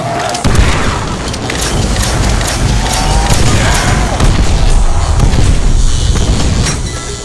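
Explosions in Call of Duty: World at War zombies on the Der Riese map, heavy booming blasts and rumbling gunfire layered into a loud, sustained barrage with brief voices mixed in.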